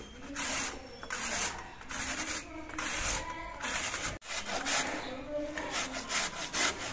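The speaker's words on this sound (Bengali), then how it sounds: "এই ঘষনি দিয়ে মূলো ঘষতে কিন্তু একদমই সময় লাগে না, খুব অল্প সময়ের মধ্যে ঘষে নেওয়া হয়।" Radishes rubbed against the medium-cut side of a hand grater, producing continuous rasping scrapes in steady back-and-forth strokes, close and fairly loud, with one brief pause midway.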